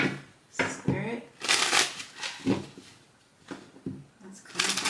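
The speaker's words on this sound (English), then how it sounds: "let me go ahead and do a quick shuffle because a whole chunk of cards just fell out" A tarot card deck is given a quick shuffle, with bursts of riffling, papery whooshes close to the microphone, broken by short pauses while someone speaks between them.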